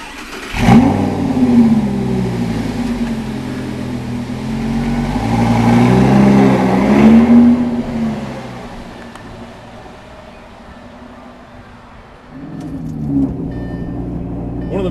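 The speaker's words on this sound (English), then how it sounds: "let's start it up and go for a drive" A 2009 Lamborghini Gallardo LP560 engine cranks and fires, then revs loudly with rising and falling sweeps before settling to a lower idle and revving again, heard close by.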